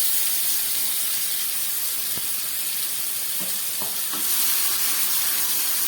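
Spices are added to fried potato, tomato and onion for a spicy pomfret curry, giving a steady hissing sizzle with a few faint clinks of a utensil against the pan.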